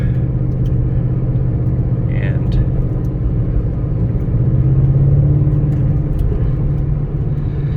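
A 2011 Shelby GT500 convertible with over 750 horsepower cruises on a test drive, its engine giving a steady, loud low rumble from inside the cabin with slight swells in pitch.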